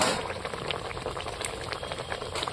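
Fish curry bubbling in a covered pot, a steady dense simmer of small pops and hiss that holds evenly close by throughout, with no voices.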